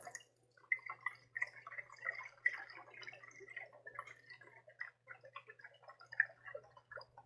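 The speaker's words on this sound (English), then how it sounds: "And then you just shake it up." A glass bottle of homemade mouthwash made with oils is shaken by hand, giving a steady run of close, small liquid sloshes and soft clinks in quick irregular rhythm, with no talking.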